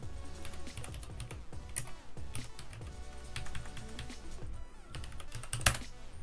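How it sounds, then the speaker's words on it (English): Rapid, close clicking of a computer keyboard as a console command is typed into the game CS:GO, irregular bursts of keystrokes with one sharper tap near the end. "open up the console and type in exec controller.360.cfg"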